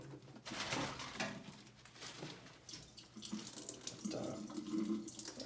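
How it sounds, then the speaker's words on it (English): Water gushing and splashing from a lightweight Dyneema backpacking gravity water filter being back-flushed, a steady close rush of flow with birds cooing faintly in the background. "Just a quick back flush here"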